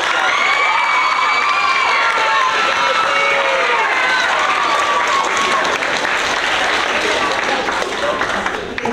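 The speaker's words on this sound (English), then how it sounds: "Can we get a round of applause for Daisy?" A school assembly audience for an eighth-grade honor roll bursts into sustained applause and cheering, a dense wash of clapping hands and shouting voices that holds loud throughout before tapering slightly at the end.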